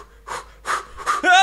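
Heavy breathing and panting from a man during a gravity-ball puzzle game, three loud breathy bursts in steady rhythm, close to the mic, ending in a voiced strained sound.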